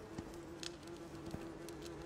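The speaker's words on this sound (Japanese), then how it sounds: "なんか飛んでる蜂みたいな。" A bee buzzes steadily through the underground depths of the survival game Icarus, a continuous mid-pitched drone with brief flutters rising and falling, close and fairly loud with no talk over it.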